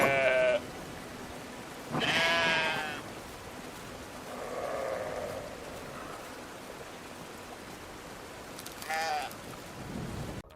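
Several sheep bleat in the adventure video game Brothers, with bursts near the start, around two seconds and near the end, plus a softer cry between them, all heard without talk over a faint background wash.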